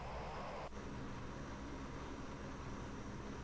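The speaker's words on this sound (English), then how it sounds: "we're using the reverse thrusters to slow down" Reverse thrust roaring on a Lockheed P-3 Orion turboprop in Microsoft Flight Simulator 2020, a steady broadband rush with a low drone that holds unbroken and loud throughout.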